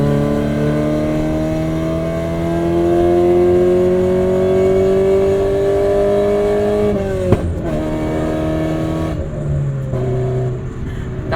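A 1990 Acura Integra RS with about 400,000 miles, running rich with no catalytic converters, revs steadily with a rising engine note, then a sharp pop and a sudden drop, settling back to a lower idle-like drone.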